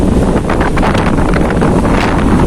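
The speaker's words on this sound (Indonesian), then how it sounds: "angin kencang sekali" Strong coastal wind roars loudly across the microphone at an extreme shoreline fishing spot, a constant close buffeting rumble with faint surf beneath.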